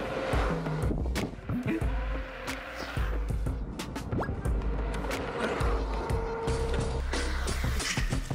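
A RoadRunner RS5 electric scooter on a test run over steep hills, road rumble, wheel noise and rattling bumps, fairly loud and close throughout with irregular clacks.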